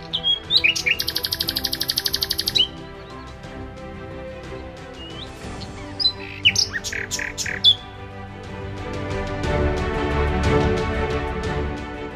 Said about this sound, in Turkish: Kuş sesleri geliyor değil mi kulağınıza?